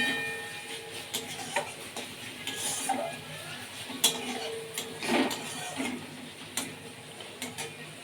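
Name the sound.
stirring and frying spice paste in a pan for macher jhal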